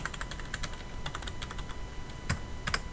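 Steady, close typing on a computer keyboard as a credit card number is keyed into a customer form, a continuous patter of quick clicks with a couple of louder key strikes and no voices.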